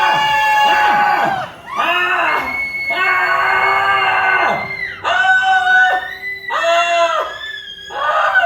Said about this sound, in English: Hold your arm out and scream on 3. Everybody help her out too.